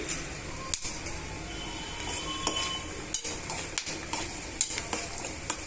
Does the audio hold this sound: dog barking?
no